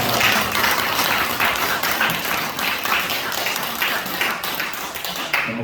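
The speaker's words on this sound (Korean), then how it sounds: "오늘 다시 한번 말씀 전해주신 우리 김미진 간사님께 감사의 박수 드리겠습니다" Sustained applause fills a church revival meeting in Hamburg, a dense, steady clapping from a crowd that carries on for several seconds without a break.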